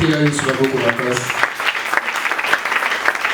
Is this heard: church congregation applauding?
yes